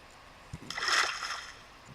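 A splash from diving into the ocean in the Minecraft video game, one short watery burst that rises and fades over about a second, heard alone.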